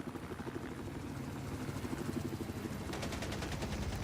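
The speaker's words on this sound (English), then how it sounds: "Here comes a helicopter fight." A helicopter fight on the Shanghai map of an 8v8 online shooter match, with rapid bursts of automatic gunfire rattling over a steady rotor and engine drone, fairly faint and distant, with no talk.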